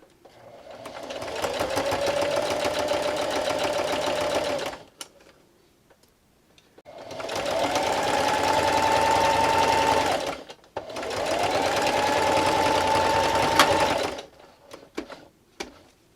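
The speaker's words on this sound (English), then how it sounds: "I'm just going to finish sewing on my circle and backstitch at the end" A sewing machine stitches a fabric circle and finishes with a backstitch, running in three sustained bursts of rapid, even whirring separated by short pauses, close and clear with no talk.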